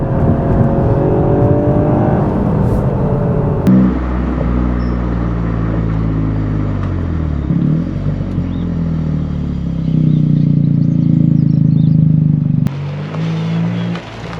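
Toyota Yaris GR-Four on H&R lowering springs driving steadily, a continuous close engine drone with gear changes and road rumble, loud and alone throughout.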